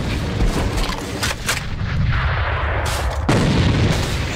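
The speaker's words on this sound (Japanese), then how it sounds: "手榴弾投擲。" A grenade blast in the video game AVA, a loud booming burst with gunfire-like crackle running through the clip and a sharp second impact near the end.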